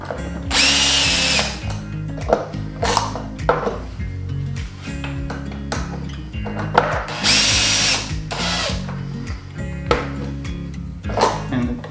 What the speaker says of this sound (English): you're going to want to loosen your top bolts so that way you can swing this out